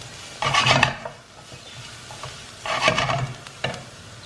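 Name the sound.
grated coconut frying and sizzling in oil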